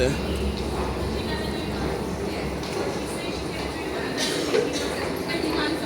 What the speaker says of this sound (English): That's definitely the sound of the DLR trains.